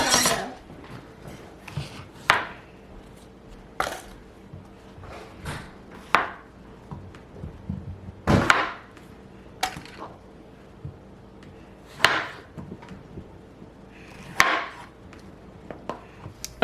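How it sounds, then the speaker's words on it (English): Knife chopping onion and zucchini on a cutting board, with scattered sharp cuts and rasps, some in quick bursts, close and moderately loud over a quiet room. "I just chopped up half of an onion, that one zucchini."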